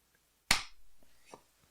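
A single sharp hand clap, struck on a podcast set to sync the footage, cracks out loud and close, then rings away quickly, with a couple of faint, soft knocks trailing after it.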